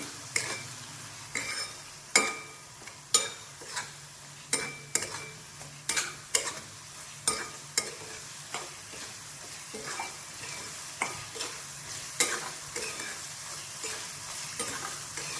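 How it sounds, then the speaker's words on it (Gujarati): Spices and chopped onions sauté in oil for a green onion and tomato dish, with a low sizzle broken by regular, rhythmic stirring scrapes against the pan, roughly one stroke a second. "એને 1 મિનિટ માટે સાતળશું."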